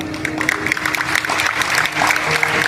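A crowd at a Hindu religious discourse claps in a loose, uneven patter, with a faint voice and murmuring running underneath.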